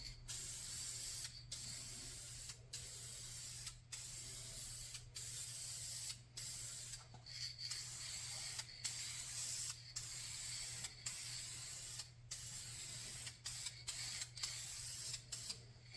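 Rapid bursts of Metalcast yellow aerosol spray paint being applied to car fog lights, a close hissing spray repeated in quick short passes with brief gaps between them, no talking.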